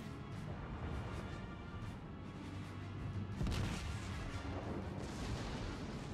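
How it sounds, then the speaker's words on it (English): Battleship secondary battery guns firing in a naval battle in World of Warships, a dense, continuous rumble of distant gunfire and booms with a slightly heavier burst midway. "Shells coming from their secondary batteries"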